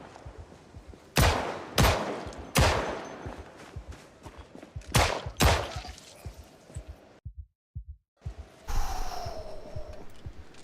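Several sharp gunshots from real firearms in the zombie survival game Project Zomboid crack out loud and close in an irregular volley, with no speech, followed by a brief silence and then a softer rushing sound.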